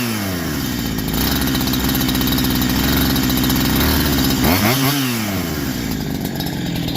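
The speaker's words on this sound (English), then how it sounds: "It's running really good, and I have my low end back ready." Farmertec Holzfforma G372 XP chainsaw engine fitted with a Walbro HD12 carburetor idles steadily and loudly, with a brief blip of throttle midway before settling back to a smooth idle.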